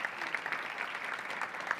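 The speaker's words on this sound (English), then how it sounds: "Let's give him a round of applause as well." An audience at an education meeting gives a round of applause, steady dense clapping from many hands with a few sharper individual claps standing out.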